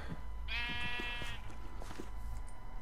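A sheep in the video game Minecraft gives one clear, close bleat that lasts under a second. Faint clicks and game ambience play beneath it.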